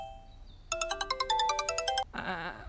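A mobile phone ringtone plays a rapid run of bright repeating electronic tones for over a second, then cuts to a softer warbling tone; fairly loud and close, no talk over it.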